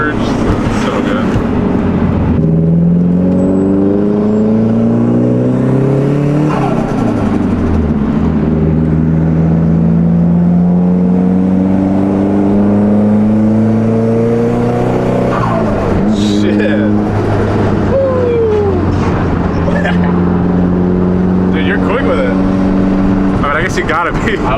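Turbocharged four-cylinder JDM car accelerating hard, the engine note climbing through gears with shifts and compressor surge, loud and close from inside the cabin while people talk over it.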